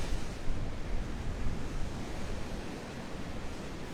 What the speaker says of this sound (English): Surfer boys. Those waves are bigger than they look.